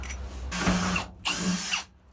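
A power drill drives a lubricated drill bit in two short bursts, each a whirring grind that starts and stops abruptly, close and fairly loud.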